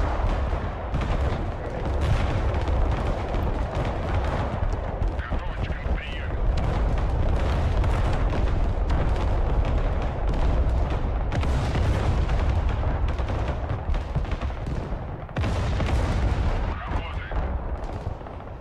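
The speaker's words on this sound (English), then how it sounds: "two grad salvos incendiary." Incendiary Grad rocket artillery salvos in the video game Broken Arrow, a dense, continuous barrage of loud booms and rumbling blasts rolling on throughout, with voices talking over the din.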